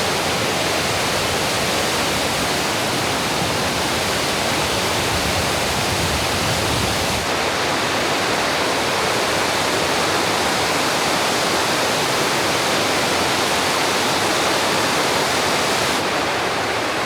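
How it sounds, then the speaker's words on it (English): Steady, dense roar of water pouring over falls, continuous and broadband with no breaks, loud and close throughout with no voices on top. "I'm at the falls with Stella."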